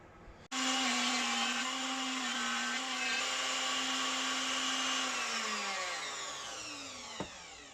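A router fitted with a Rutlands up/down shear bit spins up abruptly and cuts wood splices in one long pass, a loud steady high whine that slowly winds down near the end, with a brief knock just after.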